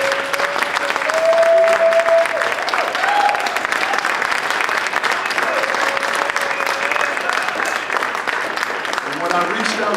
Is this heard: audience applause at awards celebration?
yes